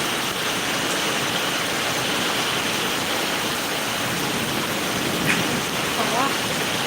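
Steady rain during a summer downpour in Bengal, a dense even hiss holding close and constant throughout, with a faint distant rumble of thunder in the background.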